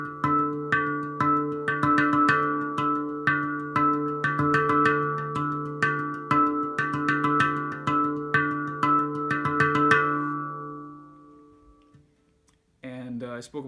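A handpan is played in a steady rhythm of struck notes, some accented louder than others, ringing with bright metallic overtones for about ten seconds before decaying, then a voice begins speaking.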